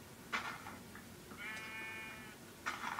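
Sheep bleats from Minecraft on Xbox 360: a few short, buzzy calls over a faint background hum, including one longer wavering bleat near the middle, with no talk.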